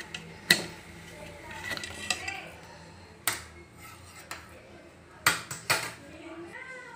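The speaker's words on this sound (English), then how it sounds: "Place this dough pan inside it carefully because it's so hot." A metal dough pan for soft eggless buns set down inside a hot cooking pot on the stove, giving several sharp clanks and metallic taps spread across a few seconds, fairly close and clear against a quiet background.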